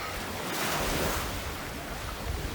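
Sea surf washing onto a shore near a coastal plot of land, a steady broad rush of waves with some wind noise on the microphone, continuous and moderately loud, with no talking.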